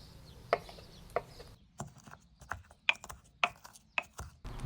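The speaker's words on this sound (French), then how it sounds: "le curcuma, on le détaille en petites lamelles" Fresh turmeric being sliced into thin strips: around eight crisp, sharp cuts in an uneven rhythm, close by but fairly quiet, with a soft background hum.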